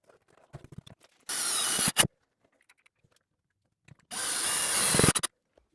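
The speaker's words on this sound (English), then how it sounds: "I'm going to go ahead and add those 2 additional screws to make sure those mounting brackets are nice and secure" Screws driven into the mounting brackets of a motorized shade, two separate bursts of loud, whirring power-driver noise, each about a second long, with light clicks and taps of handling in between and quiet gaps elsewhere.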